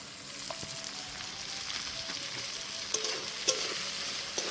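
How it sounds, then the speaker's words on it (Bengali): Spices such as coriander, turmeric and Kashmiri chili powder are stirred into lentils for sabudana khichuri over a faint continuous sizzle, with light scattered clicks of the spoon. "মশলাগুলো সুন্দর করে মিশিয়ে নেব ডালের সঙ্গে।"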